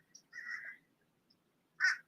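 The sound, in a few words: crows cawing outdoors by water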